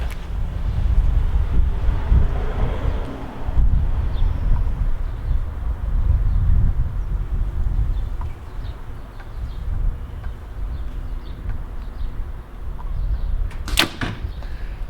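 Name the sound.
wind blowing outdoors at an archery range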